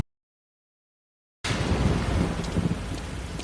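Heavy rain and rolling thunder burst in suddenly after a second and a half of total silence, then a dense, loud, steady roar of downpour fills the rest of the clip, with rumbling underneath.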